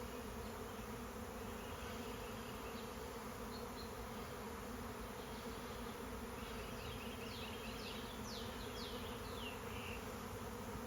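A swarm of bees buzzes around a swarm trap, making a constant, dense, droning hum with scattered higher whines from individual insects passing close by.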